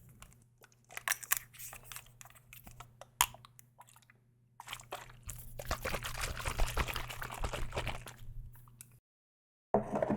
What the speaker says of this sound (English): Let's do the Extenso Hair Nectar Double Honey. Very fine mist, which I like